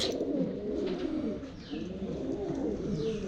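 A grey pigeon coos in soft, low, rolling phrases that repeat close by, with a faint rustle of other birds behind.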